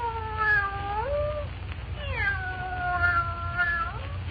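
A cat meows in a scene from an old Adventures of Superman television episode, giving two long, rising-and-falling wailing calls over a low steady hum, fairly close and clear with no talk over them.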